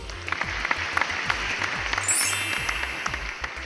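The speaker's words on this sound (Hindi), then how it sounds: "तो इस तरह कार नंबर 3 के लिए सभी लोग ताली बजाएंगे" Classroom-style applause for the winning toy car number 3 in a counting game, a few seconds of steady clapping with a bright chime ringing out near the middle.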